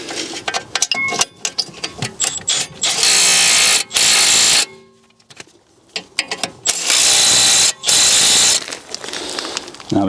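Hex bolts being driven in to reinstall a BMW brake caliper bracket, heard as bursts of ratcheting and whirring tool noise separated by short pauses, loud and close with no speech.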